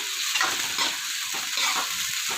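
Onions and green chillies fry in a pan, giving a loud, continuous sizzle with rhythmic surges as they are stirred. No voices.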